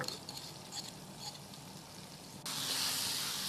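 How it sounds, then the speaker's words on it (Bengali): A spice paste for a Bengali-style chicken curry hits a hot pan, bursting into a loud, steady sizzle partway through after quieter frying and stirring sounds. "এই পেস্টটা এর মধ্যে আমি দিয়ে দেব।"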